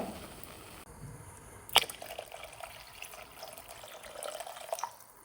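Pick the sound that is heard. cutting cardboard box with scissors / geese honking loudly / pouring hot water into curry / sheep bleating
pouring hot water into curry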